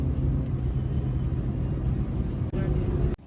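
A car cruises at speed on a German Autobahn, giving a continuous low road and engine rumble throughout, with brief interruptions near the end.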